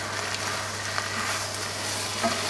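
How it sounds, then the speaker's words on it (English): Tomatoes stirred into a pan of softened vegetables for vegetarian chilli, giving a quiet continuous sizzle with a low steady hum beneath and faint stirring movements. "we're just going to add the liquid, which is the tomatoes, and give it a stir"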